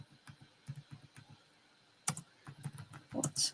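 Keys clatter on a computer keyboard in quick, irregular bursts of clicks, close and fairly quiet, with a brief pause and then a faster flurry near the end.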